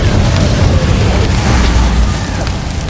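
Confringo blasting spell explosions in the video game Hogwarts Legacy: loud, dense rumbling booms and bursts that roll on continuously, heavy in the low end, with no clear gaps between blasts.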